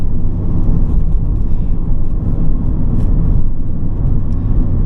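A 2021 Mazda MX-5 Miata ND2 roadster with a 7,500 RPM redline, heard from inside as a loud, steady engine and road drone that holds constant without breaks.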